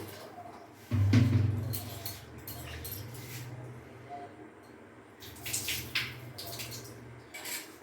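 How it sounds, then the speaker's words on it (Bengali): Arhar dal (pigeon peas) being rinsed in water, with a sloshing, splashing burst near the start, a steady low swish through the middle and a few more splashes toward the end, fairly close. "আর অরহরের ডালটাকে আমি একটু ধুয়ে নেব।"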